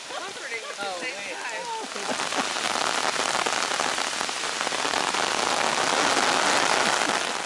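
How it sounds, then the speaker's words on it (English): A sudden tropical rainstorm on the road to Tikal, Guatemala: heavy rain pours down in a dense, steady hiss that builds and holds loud to the end, with a voice talking briefly at the start. "A sudden tropical rainstorm began as we continued toward our final destination"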